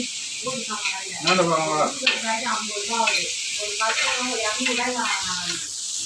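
Onions sautéing in a pan, a steady sizzle broken by stirring and scraping, with a voice talking over the frying the whole time.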